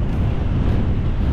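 Strong wind roaring through trees on an exposed hillside walk: a loud, continuous rushing blow with slight surges, close to the microphone and with no talk.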